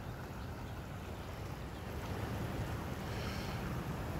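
Water flowing through a road culvert in a ravine, a continuous broad rushing wash that stays steady from start to finish, with some wind buffeting the microphone and no talking.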